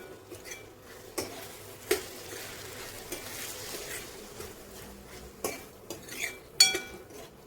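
Ridge gourd (dodka) bhaji being stirred in a pan, with a soft scraping and a few sharp clinks of the spoon against the metal at irregular intervals, close and fairly quiet, no talking.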